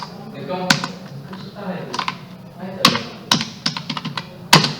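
Bursts of computer keyboard typing while a Java program is entered during a lecture, quick clusters of key clicks separated by pauses, close and clear over a steady room hum.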